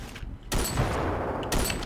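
Gunfire crackles in the Ravenfield video game battle: sharp close bursts of shots in two loud volleys, with quieter rattling fire carrying on between them.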